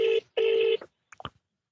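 A telephone plays a long electronic ringtone: two sustained, loud tonal bursts separated by a short gap, followed by a few faint, scattered blips that trail off into silence.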